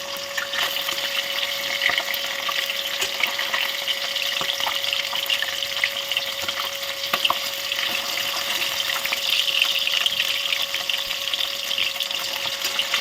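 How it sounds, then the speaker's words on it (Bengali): Pieces of katla fish fry lightly in hot oil in a pan, a steady close sizzle with continuous crackle and occasional pops and no voices. "মাছগুলোকে হালকা করে ভাজতে হবে"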